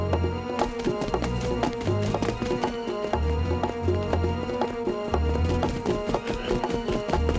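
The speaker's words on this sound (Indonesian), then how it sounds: "Kuda, kau memang cepat." A cartoon horse gallops in an animated Indonesian folk tale: a quick, steady run of hoofbeats repeats throughout, loud and close, over a continuous musical backing.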